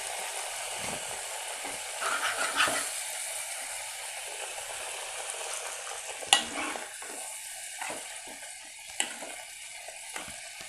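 Vetrilai kuzhambu, a betel leaf curry, simmers in a pan as a spoon stirs and scrapes through it in irregular strokes, with a few sharp clinks, heard up close.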